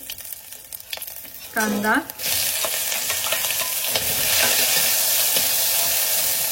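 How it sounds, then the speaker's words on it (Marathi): Mustard seeds with cumin, curry leaves, green chillies and sprouted fenugreek in hot oil for vermicelli upma, an intense sizzle and crackle that rises sharply, preceded by brief speech and a short whistle-like tone. "नेहमीप्रमाणे चांगली मोहरी तडतडू देत।"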